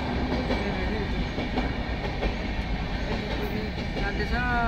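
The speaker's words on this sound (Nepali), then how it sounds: "ट्रेन क्रसिङ भयो" A long passenger train of LHB coaches rumbles steadily past a railway crossing, a loud, continuous roar of wheels and carriages with rhythmic clatter sustained throughout.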